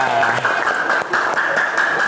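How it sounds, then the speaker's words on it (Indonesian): Students applaud in a classroom after an ice-breaking activity, a short burst of steady group clapping with voices mixed in throughout. "selesai, tepuk tangan semua ya"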